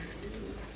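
A breeder pigeon gives a short, soft, low coo at close range, a brief murmuring burst with no voices over it.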